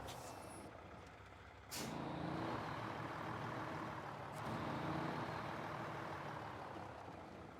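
A truck's air brake releases in a driving simulator: one sharp hiss bursts out near the two-second mark over a steady engine rumble, a fainter second hiss follows later, and the idling drone continues throughout.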